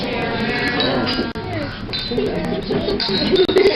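Glasses clink a couple of times during a wedding toast, brief sharp chinks buried under loud crowd chatter and cheering voices.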